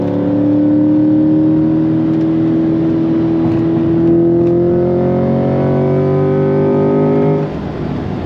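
A Chevrolet C8 Corvette Z51 Stingray V8 accelerates hard, its engine note climbing steadily and loudly through the revs for about seven seconds before easing off, with no talking over it.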